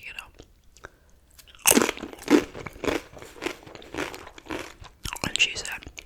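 Loud, close crunches of nachos being bitten and chewed, with irregular bursts between soft whispering, in a quiet ASMR mukbang setting.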